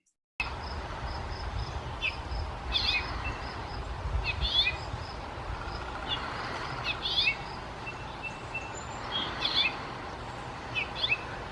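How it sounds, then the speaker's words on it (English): A house finch sings outdoors in a backyard setting: a series of bright, rapid chirping phrases repeated every second or two over a soft, steady background hiss. "the most common backyard bird where I live right here is basically the house finch"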